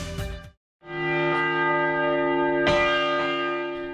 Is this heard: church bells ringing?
yes